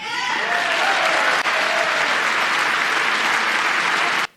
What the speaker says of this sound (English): You have Republicans clapping for Doge